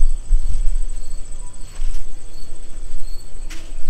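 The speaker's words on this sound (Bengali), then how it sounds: "চারিপাশে ঝিঝি পোকার ডাক ডাকছে" Crickets chirp steadily at night around a campsite near Shantiniketan, a thin continuous high trill over a low rumbling background, with no talk.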